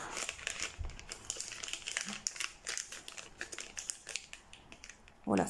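Plastic packaging crinkling while a diamond painting toolkit is opened, irregular close crackles and rustles continuing throughout, with a soft thud early on and a brief louder rustle at the end.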